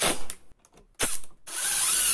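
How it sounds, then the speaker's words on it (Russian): A power screwdriver drives black self-tapping screws into a wooden board in two loud, close whirring bursts separated by a short pause, the second run longer and higher-pitched. "закручиваем на 4 самореза"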